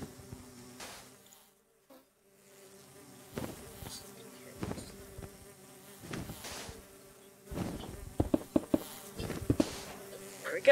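Bees buzz in Minecraft, a layered insect drone rising and falling in several swells, with clicks and sharp game sounds growing busier toward the end.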